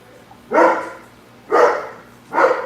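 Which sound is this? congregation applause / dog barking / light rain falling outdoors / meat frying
dog barking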